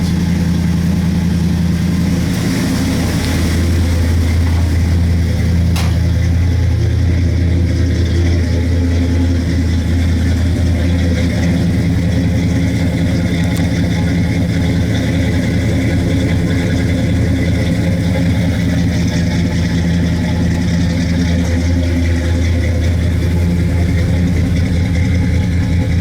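A 1967 Plymouth Satellite, just cold-started, idles with a loud, close, steady low engine rumble that carries on unbroken.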